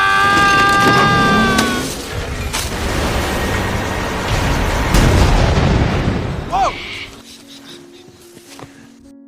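An explosion destroys a boat, a heavy broadband blast and rumble that rolls on for several seconds before fading out. Voices and cries break in near the start and again toward the end.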